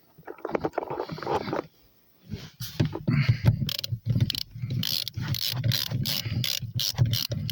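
Ratchet tightening the bolts of a car seat in a Peugeot 306: fast repeated clicking strokes in a steady rhythm, close and moderately loud, after some quieter handling noises at the start.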